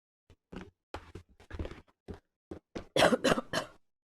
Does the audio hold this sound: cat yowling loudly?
no